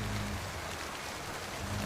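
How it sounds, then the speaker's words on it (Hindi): Heavy rain falls in a cartoon, a dense, steady hiss of downpour filling the scene with no voices. "देख कितनी बारिश हो रही है"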